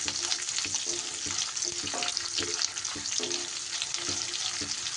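Curry leaves and chopped green chillies fry in oil in a pan, making a steady bright sizzle. Repeated soft scrapes and knocks of stirring come at a regular pace over it, with no voices.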